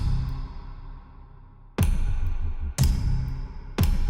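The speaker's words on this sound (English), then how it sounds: "Next up is the light switching on." A designed light-switch-on effect built from a click layered with synth textures: a fading tonal tail, then three sharp, punchy click hits about a second apart, each ringing off briefly.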